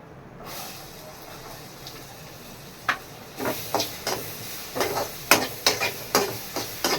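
Onions sauté in a hot pan for pav bhaji, with a steady low sizzle broken by a series of sharp spoon-scraping and stirring clatters that grow more frequent in the second half.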